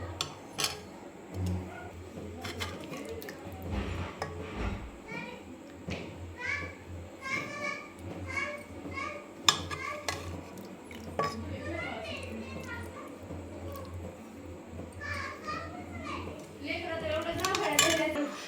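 Dhaba-style egg curry is served from a pot onto a plate. A serving spoon clinks and scrapes against the metal again and again, close up, while children chatter and play faintly in the background.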